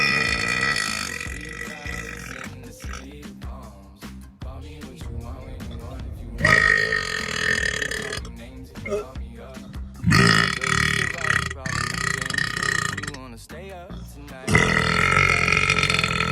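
Loud, drawn-out burps from a compilation, several long belches in separate bursts with short gaps between them, close and prominent with no other sounds competing.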